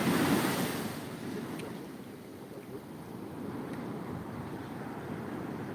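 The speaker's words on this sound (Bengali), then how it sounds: "কি মারাত্মক লেভেলে ঢেউটা উঠছে বন্ধুরা তোমরা দেখো" Big sea waves surge and crash onto Shankarpur beach at full high tide, a loud continuous roar of surf with wind buffeting the microphone, strongest at the start, then steady.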